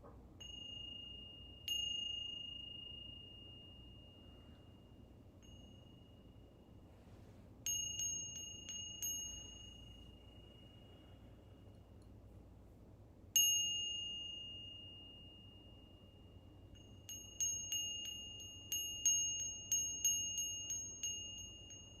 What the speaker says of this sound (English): As you tune into the sound of the bell